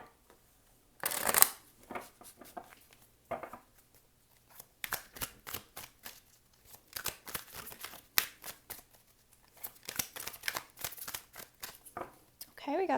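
Tarot cards are shuffled in quick bursts of close, crisp riffling and snapping, starting with a sharp riffle and recurring in clustered flurries under intermittent talk.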